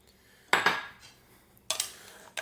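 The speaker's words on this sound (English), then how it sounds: "Now, toss the salad." Coleslaw is tossed with dressing in a bowl, giving two bursts of clattering utensils against the dish with scraping and clinking, then a brief third knock, all close and without talk.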